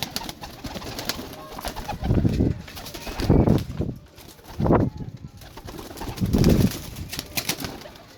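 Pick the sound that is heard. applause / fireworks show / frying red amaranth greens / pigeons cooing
pigeons cooing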